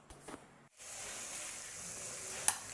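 Egg bhurji frying in a pan with turmeric and chili, a steady close hiss and sizzle after a brief pause, with a sharp utensil tap near the end.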